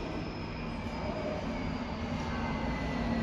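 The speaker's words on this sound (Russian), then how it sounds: "Как раз едет электричка" An electric commuter train rolls past a station, a steady, continuous rumble of wheels and carriages with faint high whine, holding level throughout without voices.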